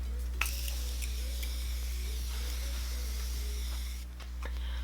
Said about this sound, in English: And then I'm going to set my face with the Morphe setting spray